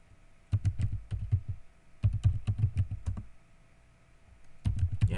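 Close, crisp keystrokes on a computer keyboard arrive in quick bursts of several taps. Short pauses separate the bursts, with no voices over them.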